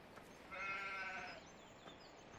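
One sheep in the Farming Simulator 17 video game gives a single wavering bleat lasting under a second, at moderate level over a faint steady background, with no talk.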